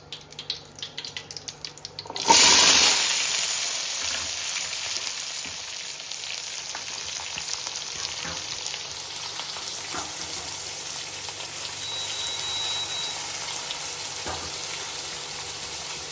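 Onions and shallots drop into hot oil with a sudden loud sizzle that settles into a steady, close frying hiss with faint stirring scrapes, under light kitchen noise and no talking.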